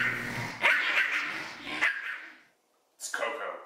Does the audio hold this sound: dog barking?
yes